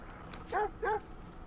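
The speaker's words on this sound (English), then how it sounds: "Oh my god, the German Shepherd. I love German Shepherds." German Shepherd in Watch Dogs 2 giving two quick, close barks about a third of a second apart over faint game ambience.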